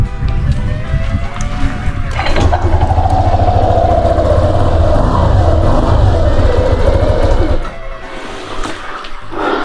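A motorcycle engine fires up and runs with a loud, rough idle that swells into revving before easing off near the end, close to the microphone.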